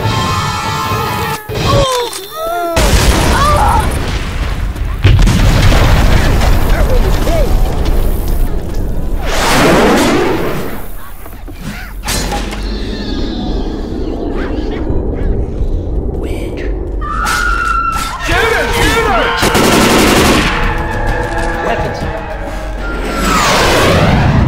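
Gunfire and explosions ring out in the Left 4 Dead 2 zombie shooter on The Parish campaign: loud, dense booms, shots and crashes pile up one after another, mixed with players' voices.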